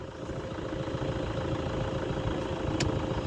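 A Toyota Hilux idles outdoors with a steady low rumbling engine drone that holds even throughout, heard fairly close.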